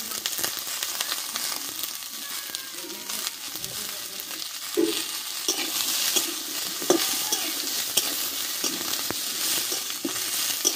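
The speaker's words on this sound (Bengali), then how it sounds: "পেঁয়াজ কলি লঙ্কাটা দিয়ে একটু নাড়াচাড়া করে নেব আমি" Small potatoes, cauliflower, spring onion and green chili stirred in a sizzling pan, a continuous close frying hiss broken by soft irregular scrapes and shuffles, no one talking.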